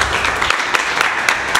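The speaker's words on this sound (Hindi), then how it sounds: "एक बार इनके लिए अच्छी जोरदार ताली बजाइए यार" An audience applauds a gym trainee at an Indian computer market, with dense, steady clapping from a crowd, loud and close, lasting under two seconds.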